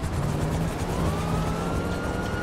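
In the video game GTA Online, a police car rolls along with its engine rumbling close by while a siren wails faintly underneath, rising in pitch.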